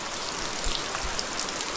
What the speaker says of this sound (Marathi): आणि पाऊस बघा किती खतरनाक वाटतंय